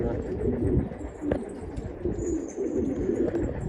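Pigeons cooing softly in a loft among mixed young birds, a steady low murmur with faint background chatter and a brief knock partway through.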